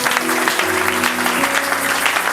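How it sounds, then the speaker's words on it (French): A church congregation claps in steady, dense applause during a worship service, with sustained keyboard-like tones running underneath throughout. "Acclamons Jésus."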